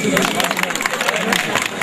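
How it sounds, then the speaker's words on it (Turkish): A crowd at a village donation gathering in İkizören claps in dense, continuous applause, loud and close throughout the short stretch. "Alkışlıyoruz efendim"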